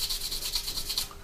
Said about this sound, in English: just literally flick to your fine sanding sponge and give it a good rub around everywhere quite vigorously